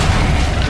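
A Bombarda blasting spell detonates in Hogwarts Legacy, a single loud, dense booming burst that fills the brief moment up close.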